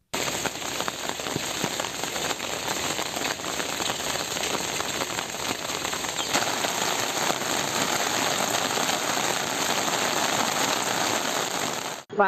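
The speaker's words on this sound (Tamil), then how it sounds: "இடியுடன் கூடிய கனமழை பெய்தது" Heavy rain pours down in Tamil Nadu, a dense, steady roar of drops hitting surfaces with crackling patter throughout and no distinct thunder.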